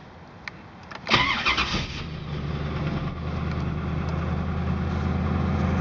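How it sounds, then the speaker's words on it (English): A car engine cranks and fires up after a fuel pressure regulator replacement, a brief burst of starter noise followed by a steady idle that settles and grows slightly louder, heard up close with no talking. "Now it's time to start the car."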